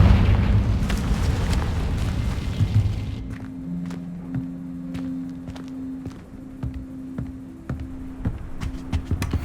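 A Confringo spell explosion in Hogwarts Legacy opens with a rumbling fiery blast that fades, followed by a low humming drone and scattered footstep-like thumps and clicks.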